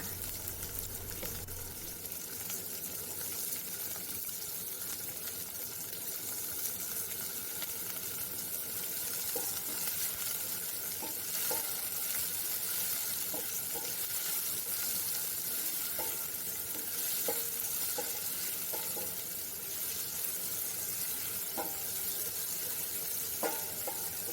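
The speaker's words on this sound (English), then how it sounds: "The next step, I will be adding pili ho and then stir." Pili ho sizzling and frying in a pan for fish fillet in coconut sauce, a steady close crackle with occasional scraping stirs, no talking.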